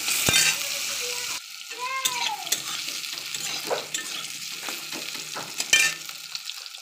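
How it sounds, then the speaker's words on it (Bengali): Eggplant frying in hot oil gives a loud, continuous sizzle, broken by scraping and stirring strokes of a spatula against the pan and a few sharp metallic clinks. "বেগুন ভাজতে দিয়েছি"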